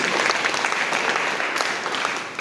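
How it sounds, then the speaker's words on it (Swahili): A church congregation claps steadily and loudly for Jesus during a Swahili worship service, a dense wash of many hands sustained throughout with no voices standing out. "Pigia Yesu makofi mazuri."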